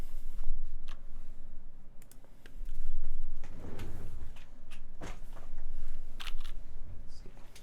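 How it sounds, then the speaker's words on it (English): A KBD75v2 mechanical keyboard clicking with bursts of keystrokes and scattered clacks over a steady background hum, close, with some handling and rattling noises mixed in. "Indeed, it should sound like a keyboard."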